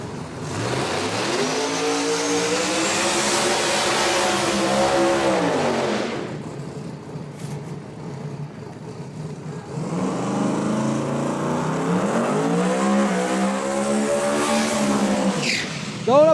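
Two drag cars launch and race down a no-prep strip, a turbocharged Camaro and a ProCharger Nova, their loud engines rising in pitch through the gears, then a second pass roars and climbs again after a brief quieter gap.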